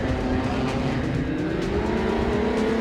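Sprint cars race around a speedway track, a loud, continuous roar of several engines blending together with a steady high whine throughout.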